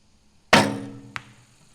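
A barebow arrow shot at 30 meters from a CD Archery WF25 riser strikes the target with one solid thump, followed by a faint short tick, alone in a quiet outdoor setting.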